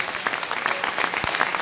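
An audience bursts into loud, dense applause to welcome a speaker at a public event, continuous rapid clapping heard close and alone for a short stretch.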